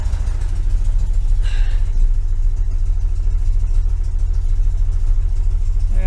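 A 1973 VW Super Beetle engine on Dellorto FRD 34B carburetors idles steadily, a loud, close, even low rumble with no change in pace and no talk.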